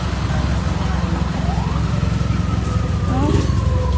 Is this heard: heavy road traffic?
yes